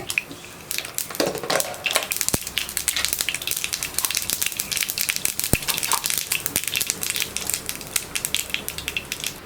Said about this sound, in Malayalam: കടുക് ഒന്ന് പൊട്ടി തുടങ്ങട്ടെ